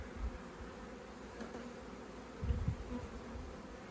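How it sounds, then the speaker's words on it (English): Forager honey bees buzzing close by at the front of a hive, a faint, steady drone of many wings with a couple of slightly louder passes, no voices. "You can see these are the foragers that are coming back, loading it into the cells and getting straight back out there."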